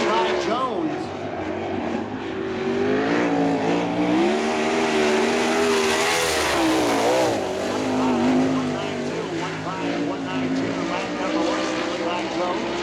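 Levi Jones's 2011 Chevy USAC wing race car runs time trials at Ocala's Bubba Raceway Park, its engine screaming loudly with rising and falling pitch through the corners. A public-address voice talks over the engine noise.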